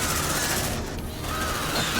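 Heavy gunfire from a weapon in Aliens: Dark Descent roars as a continuous loud fusillade, a dense barrage that barely dips for a moment midway.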